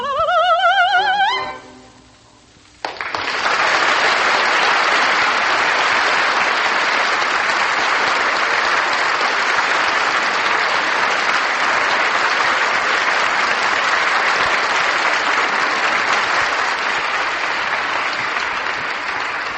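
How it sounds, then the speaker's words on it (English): Loud, sustained applause from an opera audience for a soprano after the Seguidilla from Bizet's Carmen, rising right after the last sung notes fade and continuing as steady dense clapping. "The applause is for Miss Risa Stevens, who sang the Sagadilla from Bizet's Carmen"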